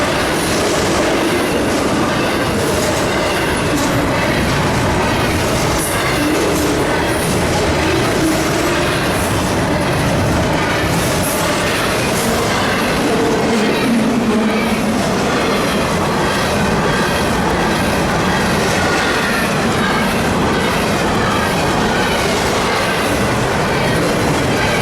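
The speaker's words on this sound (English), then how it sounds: "The Pennsylvania Heritage Unit, number 8102, was on the point of this hotshot intermodal" A CSX hotshot intermodal freight train led by Pennsylvania heritage unit 8102 rolls past on the CSX A Line, a loud, steady roar of wagons with clickety-clack wheel beats and occasional wheel squeal throughout.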